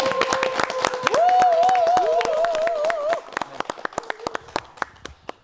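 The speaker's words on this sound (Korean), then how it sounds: "무대에 박수 박수로 부탁드리겠습니다." A studio audience claps to welcome an event MC onto the stage of a KBS broadcast, sharp rhythmic claps over a held musical tone, then thinning to scattered claps as a voice speaks.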